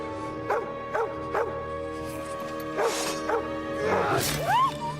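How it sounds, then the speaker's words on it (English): A dog in the video game Kingdom Come: Deliverance II barks repeatedly, a series of short, sharp woofs ending in a whimpering yelp, over steady game music. "Was that a dog?"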